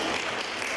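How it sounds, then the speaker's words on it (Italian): Brief, steady burst of subdued clapping from a small gathering inside Chioggia town hall, a soft continuous patter with no voices. "Un timido applauso accoglie al municipio di Chioggia l'annuncio del ministro Dario Franceschini"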